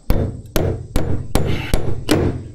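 Hammer blows driving nails into wooden trusses during framing, six sharp, solid strikes at a steady, roughly half-second pace, close and loud, each ringing briefly before the next.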